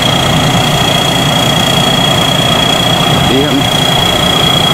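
A six-wheel rice combine harvester runs at a steady, loud mechanical roar during the rice harvest, while someone talks over the continuous engine noise.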